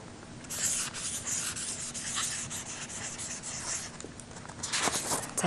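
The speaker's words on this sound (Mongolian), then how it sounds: "За тэгвэл хоёлаа ихнээс нь үгээ бичээд эхлэе тийм ээ" Words are handwritten on paper in a steady run of close scratching and rubbing strokes, with brief pauses between strokes and a brisker burst near the end.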